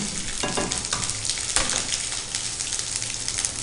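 Hot oil sizzles and crackles steadily as dried red chillies fry with tempering spices, with a few sharp pops and stirring scrapes.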